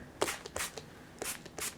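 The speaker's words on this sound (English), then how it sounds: "I'm gonna spray this pretty liberally on both sides." A hand spray bottle mists water onto corrugated paper in several quick, soft hissing bursts, some paired, fairly faint and close, with no voices.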